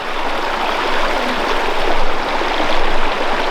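River water rushing over rocks near a hidden North Carolina waterfall, a dense, steady broadband roar with no voices.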